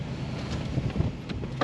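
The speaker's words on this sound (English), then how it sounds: "It's actually blowing a gale." Strong gale-force wind on Western Australia's Ningaloo Coast buffets and roars across the microphone in a continuous low rumble, with gusty surges and no talking.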